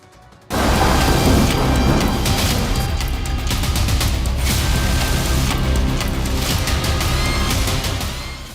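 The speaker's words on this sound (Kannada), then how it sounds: "ಮಂಗಳೂರಿಂದ ಶುರುವಾದ ಮಳೆಯ ಮಾರುತಗಳು ಕೊಪ್ಪಳ ದಾವಣಗೆರೆ ಯಾದಗಿರಿಯಲ್ಲೂ ಭಾರೀ ಮಳೆ ಸುರಿಸ್ತಿವೆ" Heavy monsoon rain pours in Karnataka, a loud, dense, roaring wash that starts abruptly and holds steady throughout, with faint mechanical undertones and no voices.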